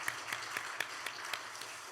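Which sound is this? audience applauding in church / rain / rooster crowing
audience applauding in church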